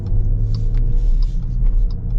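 A 2025 Jeep Wagoneer L pulls away from traffic lights with a loud, smooth low engine rumble heard from inside the cabin, rising steadily as it accelerates.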